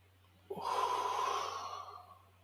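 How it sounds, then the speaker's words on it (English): A single long, deep breath drawn in and slowly let out, close and clear, with no talking. "deep breath in through the nose, hold out through the mouth"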